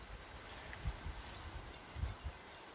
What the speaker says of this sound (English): It's very windy, of course, but it's still pretty.